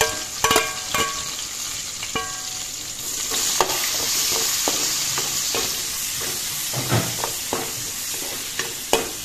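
Onions frying in oil in a pan for chicken curry with bottle gourd, producing a steady moderate sizzle with frequent spatula clinks and scraping stirs near the pan.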